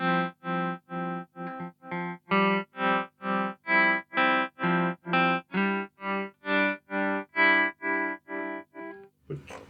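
Sustained guitar chords through a ZVex Super Seek Trem tremolo pedal pulse on and off in a steady, even rhythm, each swell chopped into regular throbs, with a short noisy burst at the end.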